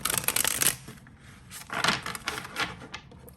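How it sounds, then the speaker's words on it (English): A deck of tarot cards is shuffled by hand in quick, uneven bursts of riffling and flicking, close by with brief pauses between them. "Wow, that was like a mess of a shuffle"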